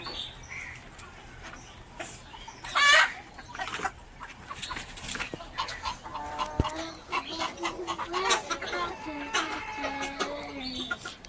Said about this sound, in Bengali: গাইস এখানে কিন্তু অনেক রকমের রাতা মুরগি আছে